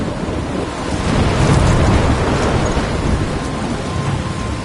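Thunderstorm in the video game Life is Strange: heavy rain and wind roar steadily, with a deep rolling rumble of thunder swelling in the middle, loud and close, with no talking.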